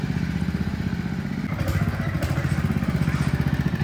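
Tractor engine running in third gear with a rotary tiller, a steady low chugging drone with a fast regular pulse, close and continuous, rising slightly in intensity partway through.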